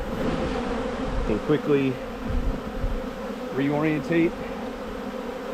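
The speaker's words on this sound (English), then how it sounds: "any bees that are still in the trap will make their way in here in no time" A honey bee swarm drones steadily around a hive box, a close, continuous insect buzz that holds through the whole stretch while someone talks briefly over it.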